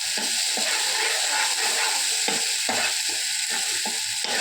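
Masala sizzles loudly in a pan under constant frying hiss, with a spoon scraping and stirring in repeated strokes.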